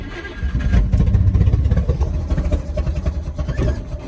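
A 1965 Chevy Corvair engine, a car rescued from the crusher, runs in second gear with a loud, rough, throbbing low rumble close by that rises and falls unevenly.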